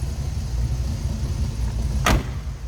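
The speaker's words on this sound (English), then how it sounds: "Door closes nicely." Door of a 1936 Chevrolet Master Deluxe street rod shuts with a single solid thump near the end, heard close over a low engine idle.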